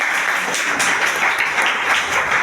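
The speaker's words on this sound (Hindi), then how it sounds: "ताली बजा दो भैया" A crowd claps and applauds continuously at a seminar, a dense, lively patter of many hands at close range.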